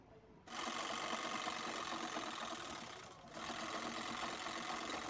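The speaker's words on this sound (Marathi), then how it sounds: "याला दुमडून पट्टी परत शिवायची आहे।" A sewing machine runs fast and steady, stitching a strip of fabric onto a handmade bag, with a brief slowdown partway through before it picks up again, close and continuous.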